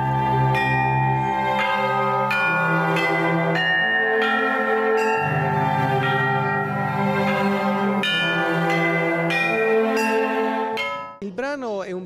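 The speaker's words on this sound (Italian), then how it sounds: "dove strumento solista è il carion di campane e in, e, e in questa occasione abbiamo aggiunto altre 18 campane" A carillon of bells plays with an orchestra in a piece of experimental music, with 18 additional bells added: sustained orchestral tones under repeated clear, ringing bell strikes, loud and continuous throughout.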